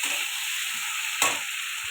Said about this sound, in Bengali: এবারে আলু পটল ভেজে রেখেছিলাম ওটা দিয়ে দেবো। দিয়ে এটা ভালো করে কষাতে থাকবো।